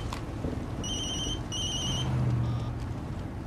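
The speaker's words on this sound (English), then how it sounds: "hold on a second, my other cell phone." A cell phone rings with repeated electronic trilling bursts, fairly quiet against a low background hum, with no talk over it.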